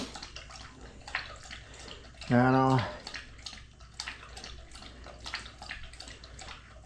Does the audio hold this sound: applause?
no